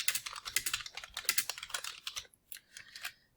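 Rapid clattering keystrokes on a computer keyboard while code is typed, dense and close, thinning into a few scattered taps near the end, with no voices.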